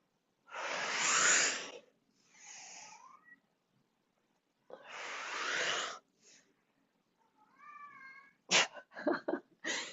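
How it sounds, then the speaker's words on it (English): A part-Siamese white cat meows repeatedly, with several drawn-out yowling calls and shorter chirping meows, close and fairly loud, interspersed with breathy hissing sounds and quiet gaps. "that little white cat is such a talker"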